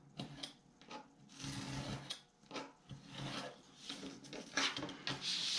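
Blade trimming chipboard along a ruler, close scraping and rasping cuts in short uneven strokes, fairly quiet with no talk.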